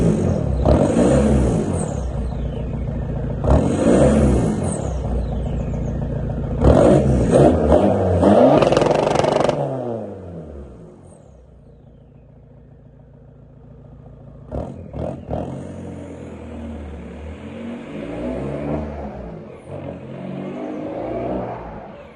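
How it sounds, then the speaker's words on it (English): A remapped 1.9 TDI car drives past outdoors with loud, hard revving in repeated bursts, the engine note rising and dropping, then a quieter lull before it builds again as it accelerates away. "We'll take the car out and we'll try a little drive-by to see what it sounds like."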